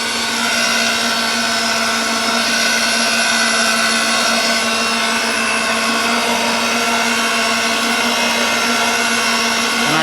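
A threading machine cutting threads into pipe while fed with oil gives off a steady, loud, even motor whine with a strong hum. It runs without a break and there is no talking.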